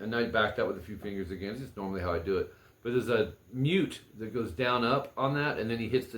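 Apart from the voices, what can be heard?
No everyday noise stands out behind the speech.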